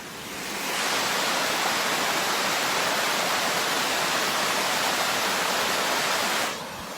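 A woodland creek rushes steadily below a waterfall, its water pouring over soil it has eroded into a loud, continuous broadband roar. The sound swells in over the first second, holds evenly, then drops back near the end.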